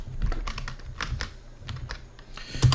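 Typing on a computer keyboard while setting text in Photoshop, with a burst of quick clicky keystrokes and a firmer Enter press near the end, close and clear with no talking.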